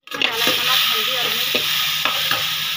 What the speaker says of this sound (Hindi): तो ये मैंने जीरा भून दिया है,